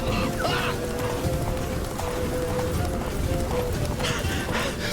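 Hooves of the horse Roach clip-clopping at a run in the Witcher 3 video game, steady rhythmic galloping under a continuous game ambience, with a voice speaking over parts of it.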